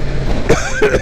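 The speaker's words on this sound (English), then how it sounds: "you cough so hard that your tongue cramps" A person lets out a couple of hard, rough coughs in quick succession, loud and close, with a low engine-like rumble underneath.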